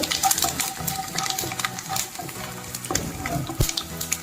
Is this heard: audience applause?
no